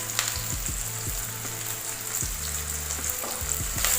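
Whole cloves, cardamom and cinnamon frying in hot oil for butter chicken, a steady loud sizzle with scattered crackling pops and a few stirring scrapes throughout.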